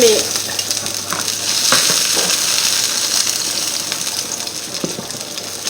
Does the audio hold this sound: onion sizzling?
yes